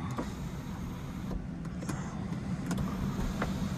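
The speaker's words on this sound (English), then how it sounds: "It has got electric tilt and slide sunroof." Electric tilt-and-slide sunroof motor running on a 1999 Jaguar S-Type 3.0 V6 automatic, a steady low whirr inside the cabin with a few faint clicks, heard alone without talk.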